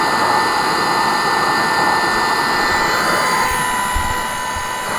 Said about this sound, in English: So with my Waveline 2-stage pump, the tube is filling quite quickly.